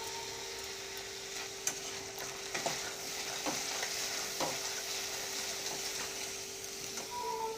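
Peas and paneer fry in a pan with salt and a pinch of sugar for matar paneer. A steady, soft sizzle runs throughout, broken by a few scraping stirs and light utensil taps against the pan. Nobody speaks.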